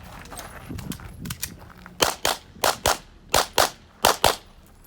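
Pistol gunshots during a practical shooting match stage at the North Texas Open, a quick series of about ten sharp close reports in pairs after some faint clatter and movement.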